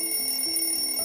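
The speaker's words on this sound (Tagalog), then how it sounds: "Ang ingay naman ang alarm mo, Janet." An alarm clock rings in the morning with a steady, continuous electronic tone at close range and a faint warble under it, heard on its own with no talking.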